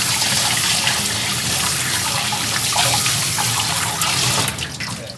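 Water runs loud and close from a tap while pufferfish skin is rinsed under it, a steady splashing rush that thins near the end, with no talking.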